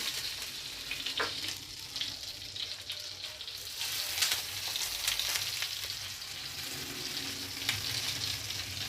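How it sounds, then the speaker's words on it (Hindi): Eggplant slices frying in oil on a hot tawa, a continuous close sizzle and crackle with occasional light scraping and stirring, steady throughout with no talking. "अब हमारे जो से हैं बैंगन अच्छे से फ्राई होंगे।"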